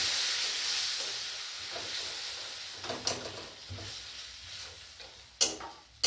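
Water poured into a hot pan of ground coriander, coriander-leaf and green chilli masala for a Bengali rohu fish curry, hissing and sizzling steadily with a few sharp clinks of a spoon stirring against the pan.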